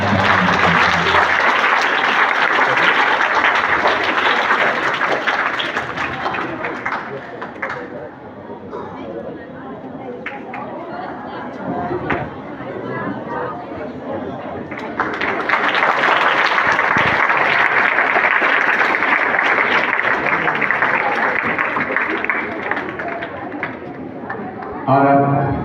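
An audience at an Urdu student speech competition in Siwan bursts into loud sustained applause, which thins into murmuring chatter midway before a second strong wave of clapping swells up and carries on.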